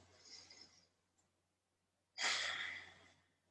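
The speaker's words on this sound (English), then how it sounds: "So now we're breathing in for a count of 4, breathing out for a count of 4." Slow nasal breathing during a Kriya Yoga pranayama class, with a soft exhale that fades into silence, then a stronger, louder breath through the nose that tapers off.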